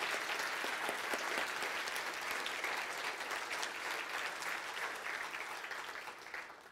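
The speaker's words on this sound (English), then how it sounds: "So I'd like you to really give them a big round of applause and say thank you to them." A seated audience at a Saturday afternoon conference session claps in thanks, a broad even wash of many hands that stays steady throughout and only slightly thins toward the end, heard from some distance at a low level.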